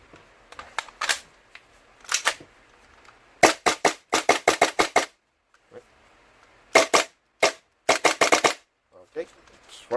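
Tokyo Marui Hi-Capa airsoft pistol with a modified, fixed plastic outer barrel firing in bursts of sharp, close snapping shots, several rapid strings separated by short pauses.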